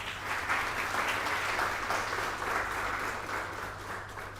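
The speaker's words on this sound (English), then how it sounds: "Can we have a huge applause for them?" Steady audience applause for conference panelists at an accelerator meet, a sustained wash of many hands clapping at moderate loudness with no talk over it.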